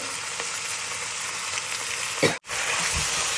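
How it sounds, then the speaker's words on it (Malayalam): Mutton fries and hisses in a pan as it is mixed with masala, a steady close sizzle with a scrape of stirring and a sharp break partway through, and no talk. "നമ്മൾ ഈ മട്ടനും കൂടി ഇട്ടിട്ട് ഒന്ന് മിക്സ് ചെയ്തെടുക്കാം"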